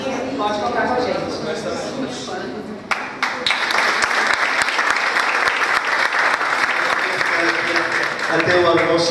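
A meeting audience breaks into loud, sustained clapping after someone speaks, and the dense applause keeps going to the end.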